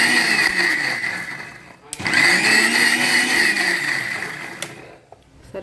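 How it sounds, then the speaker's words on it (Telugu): Mixer grinder whirring loudly as it blends gongura leaves for a gongura shrimp curry, a steady motor roar that pauses briefly near two seconds, restarts and runs until it cuts out near the end. "ఒక్కసారి మిక్సీ పెట్టుకుందాం."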